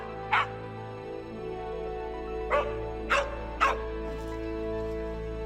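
A disaster rescue dog training in rubble in the Hiroshima highlands barks four times, one sharp bark, a pause, then three more in quick succession, heard at middle distance over a low steady hum.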